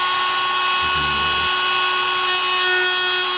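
Rotary tool grinding the rivet heads off a Dinky 187 De Tomaso Mangusta toy car on a rubber mat, a loud steady high-pitched whine with a brief lower drop in pitch partway through.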